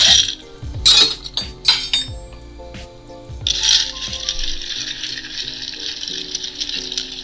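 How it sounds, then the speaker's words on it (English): Ice rattling and clinking in a mixing glass as a Sazerac cocktail with Pierre Ferrand cognac is stirred, with sharp clacks early on, then a steady close swirling rattle. "we are going to stir this bad boy down, make it nice and chilled"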